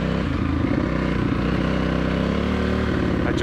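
An Aprilia RXV 550 motorcycle engine runs close by with a steady, rough, throbbing drone that holds an even level throughout.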